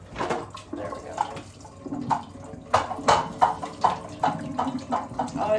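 Water draining out of a portable hand washer after its top is removed, splashing and gurgling in uneven bursts, close by and growing louder and more frequent toward the end.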